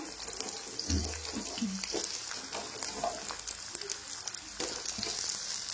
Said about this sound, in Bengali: ফোড়নটা চড়চড় করে উঠেছে, এবারে দিয়ে দেবো টুকরো করে কেটে রাখা আলু